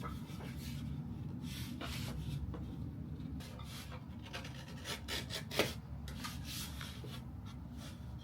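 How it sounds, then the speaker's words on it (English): A knife blade drawn through a laminate board to cut off its lip during a staircase install, a steady low rasping scrape with repeated short strokes and scratchy bursts, quiet and close, no talk. "I just take my knife blade and I go through the whole board"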